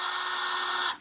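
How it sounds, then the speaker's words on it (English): A power drill runs a pin into a non-assembled HD Innovations shuttle during the build, giving one steady high-pitched whine for about a second before it cuts off abruptly. Nothing else is audible. "And then I take my drill and then I just run this in"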